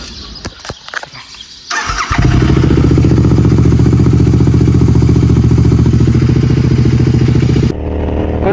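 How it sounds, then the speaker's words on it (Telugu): A motorcycle cold-starts at dawn: after some rustling and clatter, the engine fires around two seconds in and settles into a loud, steady close-range idle with throaty pulses, then drops in level near the end. "కోల్ స్టార్ట్ చేద్దాం మనం బైక్ని."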